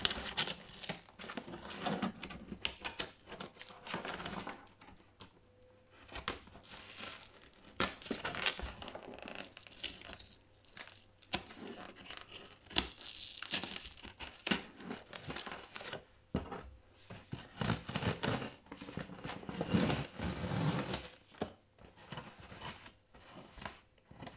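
Close, steady crinkling and rustling as a large cardboard box is opened with scissors, with scattered sharp tears and snips continuing throughout, no talking.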